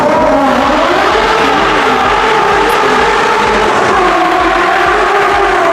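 A Ferrari F50's high-revving engine screams loudly and continuously, its pitch shifting as it accelerates, with no voices.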